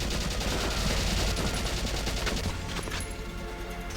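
Gunfire in the video game Valkyria Chronicles, sniper shots amid a continuous, dense battlefield din of rapid firing that stays loud throughout and thins slightly near the end, with no talking.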